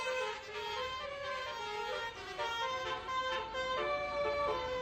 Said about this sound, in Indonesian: bus yang berada di belakangnya merespon dengan memainkan klakson telolet mereka